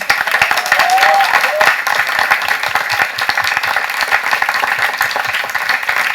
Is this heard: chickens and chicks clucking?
no